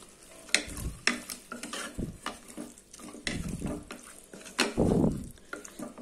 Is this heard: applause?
no